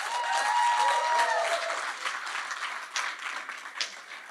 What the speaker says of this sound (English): give a huge round of applause to our dream team pastor, Pastor Nate Dukes.